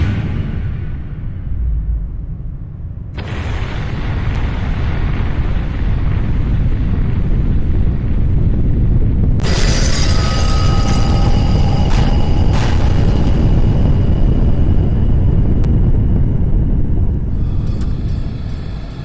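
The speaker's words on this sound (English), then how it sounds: "I think there was a bit of an explosion" A loud explosion in the post-apocalyptic game Exmortis 3 erupts after a quieter opening, followed by a sustained heavy rumble with sharp crackling bursts and debris-like clatter over the rest of the scene.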